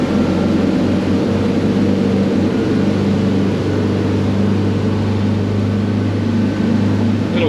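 A boat's engine drones steadily and loudly during a sea trial as it is brought up toward 3000 rpm, a constant low hum with wash and wind noise, no voices.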